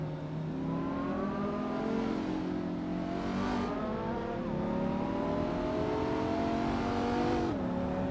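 Ferrari 288 GTO and other racing cars in a racing video game, steady high engine drone with rising revs and gear-change dips, loud and continuous without talk.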